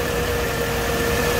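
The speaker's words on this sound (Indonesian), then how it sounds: "Sehalus apa mesin inline 3200 cc ya." A car's inline 3200 cc engine idles smoothly with its fans and air conditioning running, a steady even hum close by with no speech.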